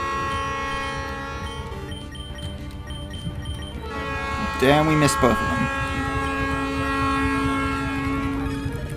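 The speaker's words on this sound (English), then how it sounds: "Oh, hey, the train's here." A train passes in a video game, its horn sounding in a short burst of stacked tones midway over a steady background of game music and rumble, with someone talking over it throughout.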